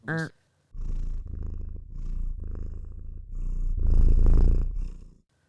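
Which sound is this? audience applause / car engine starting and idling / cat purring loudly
cat purring loudly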